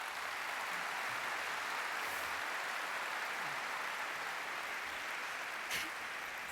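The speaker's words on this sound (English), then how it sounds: "Let's give them a big round of applause." Steady applause from a crowd, a continuous wash of clapping that holds at an even level throughout with no voices on top.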